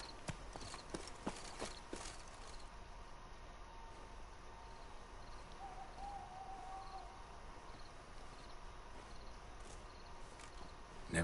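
Roach, the horse in The Witcher 3, clip-clops in a quiet run of hoofbeats, busier at the start, then softer and steadier against faint crickets and night ambience.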